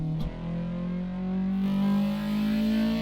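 Car engine held at roughly 5,800 RPM with its VTEC engaging, a steady close harmonic drone whose pitch rises slightly as the tone swells louder and harsher partway through, with no one speaking.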